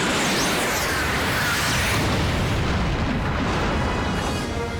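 A missile fired from a fighter jet during a film action scene: a loud, continuous, broadband roaring blast with a heavy low rumble, holding steady throughout without any voices.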